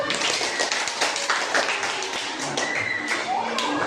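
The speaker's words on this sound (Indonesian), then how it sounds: "Coba dulu sekarang tepuk tangan untuk kelompok 4." Students in a classroom clap for a group of classmates, a scattered, uneven patter of hands with some voices and small knocks mixed in, fairly close and steady throughout.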